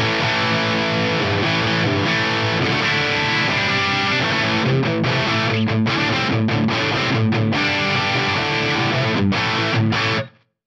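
A heavily distorted electric guitar through a high-gain amp plays thick, saturated hard rock riffs with choppy stops, loud and sustained before cutting off abruptly at the end.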